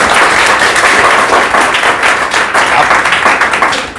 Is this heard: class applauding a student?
yes